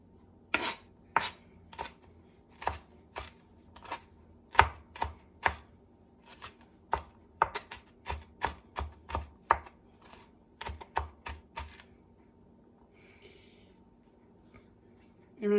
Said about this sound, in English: I do seed it, take the seeds and the veins out so it's not roaring hot on your mouth, on your tongue. And I dice them up pretty fine.